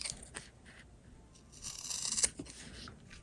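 Scissors snip through fabric right beside a sewn seam while making a travel bag: soft, close-up cutting and crunching sounds in a quiet room, with no talking.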